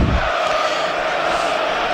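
Nottingham Forest supporters roaring and chanting at an English Premier League match away at Tottenham Hotspur, a loud sustained crowd din with rising voices that stays dense throughout.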